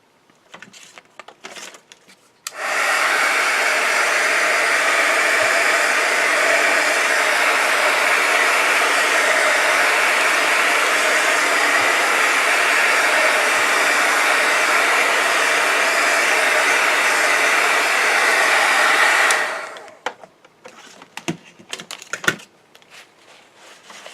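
A heat tool blows steadily for about seventeen seconds to dry Distress Oxide ink on paper, a loud continuous whooshing roar that starts and stops abruptly, with faint handling clicks and rustles on either side.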